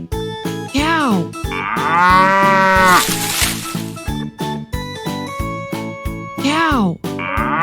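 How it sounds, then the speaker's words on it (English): A cow gives a long, drawn-out moo, loud and close, set over a rhythmic cheerful music track with short vocal bits before and after. "Cow."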